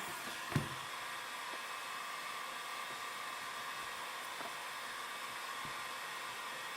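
A heat gun or hair dryer blows hot air steadily over a side number plate graphic on a 2017 Honda CRF450, a faint, even whooshing drone with one soft thump near the start and no talking.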